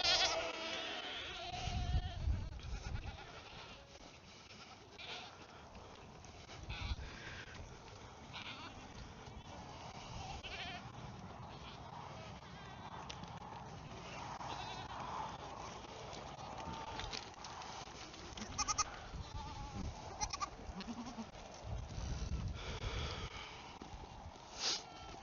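Goats bleat repeatedly at moderate distance, several animals calling over one another amid rustling and shuffling movement.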